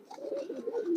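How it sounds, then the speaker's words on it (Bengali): A male green-necked pigeon gives a short, soft coo, close and alone. "এটা একটা নর কবুতর।"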